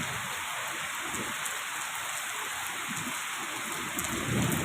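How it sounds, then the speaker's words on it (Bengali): Heavy rain pours steadily during a thunderstorm near Dum Dum Cantonment, a dense close hiss with low rumbles of thunder underneath and no talking. "মেঘও ডাকছে"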